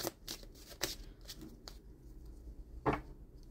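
A deck of oracle cards being shuffled with some difficulty: a few soft, brief riffling and sliding bursts, close but quiet, with the longest near the end.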